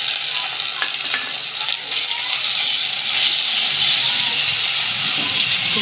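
Ginger-garlic paste frying in hot oil over well-browned onions, giving a steady close sizzle and hiss with occasional stirring scrapes throughout.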